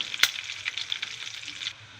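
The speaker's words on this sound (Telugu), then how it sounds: "బాగా వేగింది కదండి పోపు" Tempering spices crackle and sizzle in hot oil in a pan for a tamarind stew, with one sharp pop near the start, then a steady hiss that cuts off abruptly.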